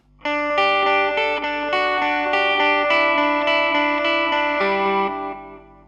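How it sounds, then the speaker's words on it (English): Electric guitar with delay playing a sustained chord sequence for an intro tone, repeats trailing and smearing each note into a washy tail; loud and continuous, no voices. "this is what it sounds like with the delay"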